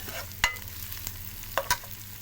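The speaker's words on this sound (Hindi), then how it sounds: "तो अब इसको इस तरीके से हम हल्का सा फ्राई करेंगे।" Soft sizzling of onions frying lightly in a pan, with a few sharp scrapes and clinks of a utensil stirring, quiet and close.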